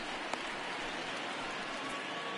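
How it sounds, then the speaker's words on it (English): Rain comes down steadily at a baseball game, an even, soft hiss of falling drops with one brief tap early on and no talk over it. "we've mentioned the conditions aren't ideal with the rain coming down"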